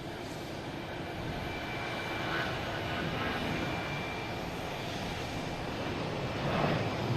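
An American Airlines Airbus A319 jet at Boston Logan passes with a steady broadband roar that swells slightly toward the end, continuous and moderately loud throughout.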